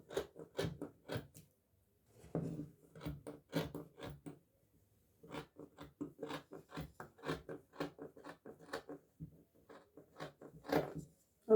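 Sharp scissors cut through fabric for a padded princess-dart bustier: close, crisp snips and crunches come in quick irregular bursts with short pauses between runs.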